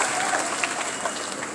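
An audience at a Hindi poetry gathering claps in a dense, continuous round of applause, close and loud.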